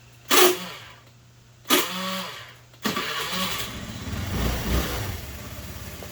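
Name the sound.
Honda Elite 110 scooter engine starting for a ride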